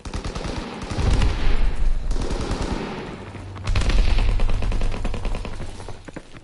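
Suppressed weapon fire in Call of Duty: WWII, rapid automatic bursts of muffled, thudding shots in two long strings separated by a brief pause, loud and close with dense low rumble.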